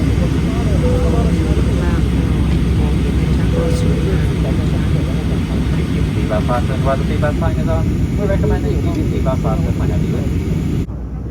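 Loud, steady jet-cabin roar fills an airliner climbing after takeoff from London Luton on a flight to Edinburgh, a constant dense drone throughout, with faint voices briefly audible beneath it.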